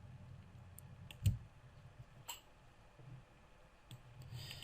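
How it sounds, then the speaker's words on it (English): Mouse clicks at a computer while working in image-editing software with a transform tool, a few faint, sharp clicks spaced apart over low background hum, with no talk. "Now I'm going to click the top left corner and hold Alt and Shift."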